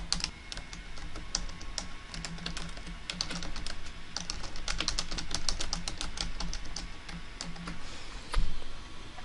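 Rapid, fairly steady clatter of keys on a computer keyboard as a quiz question is typed, close but quiet, with no talking.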